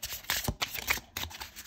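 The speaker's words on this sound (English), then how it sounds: "I'm going to shuffle these so I can get a fresh bottom deck energy" Playing cards are shuffled in several quick riffling bursts, close and crisp, with short gaps between them.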